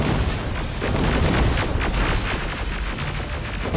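A rocket launcher in the game Terminator: Resistance fires and detonates, a heavy booming rumble with crackling debris that swells and lingers, loud and close without talk over it.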